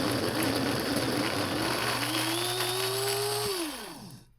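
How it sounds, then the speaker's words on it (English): A push-button coffee grinder grinding homemade model railroad scenic material, a loud whirring motor whose pitch rises as it spins up, holds steady, then winds down as it stops. "if you never use a coffee grinder, usually they have a button like this and you just press"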